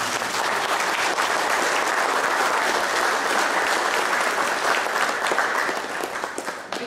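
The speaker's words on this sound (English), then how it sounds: "Really, we need to clap for Lena" Applause from mourners gathered at a celebration-of-life memorial in a library, steady and sustained group clapping that holds at an even level before tapering off near the end.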